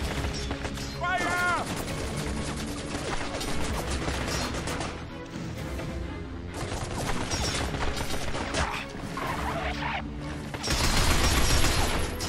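Sustained gunfire in Binary Domain, dense overlapping bursts of shots and crashing impacts throughout a loud battle, with voices talking over the din.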